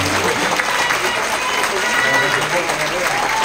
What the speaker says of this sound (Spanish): A nuestra alcaldesa de Veracruz, un fuerte aplauso.